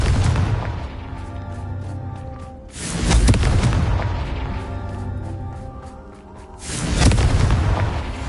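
Booming spell blasts from a Confringo fire spell in the Hogwarts Legacy video game, three deep explosive bursts a few seconds apart, loud and rumbling with crackling tails and no talk.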